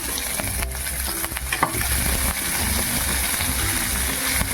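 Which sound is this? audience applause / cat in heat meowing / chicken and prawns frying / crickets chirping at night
chicken and prawns frying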